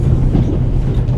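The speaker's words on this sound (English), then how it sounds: "The noise on this train is driving me crazy." A train's steady rolling rumble with a faint clickety-clack from the rails, heard from inside a carriage in the video game The Raven Remastered, continuous and fairly loud with no voices.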